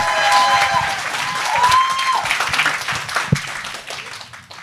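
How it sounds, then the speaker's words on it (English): A festival audience applauds a film team, with a full burst of clapping at the start, some cheering and microphone tones mixed in, then the clapping gradually thins and fades away. "Please give a big round of applause for To That Do Us Part."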